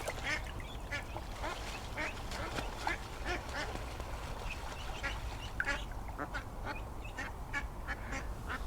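Ducks on a fishing lake quack over and over, the calls scattered and overlapping at a moderate distance against a steady outdoor background hiss.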